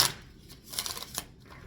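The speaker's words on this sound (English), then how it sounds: "They wanted me to shuffle, so I'm going to shuffle." A deck of cards shuffled by hand at close range, a few rapid riffling and flicking bursts in under two seconds, with no voices.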